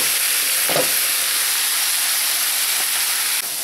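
Onion and carrot fry with tomato in a pan, giving a steady, close, even sizzle and hiss throughout, with a few faint clicks and no speech.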